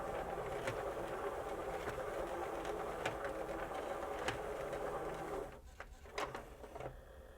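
A CD changer mechanism powering up with its lid off gives a steady mechanical whir with faint ticking clicks, then drops quieter near the end, leaving a few isolated clicks.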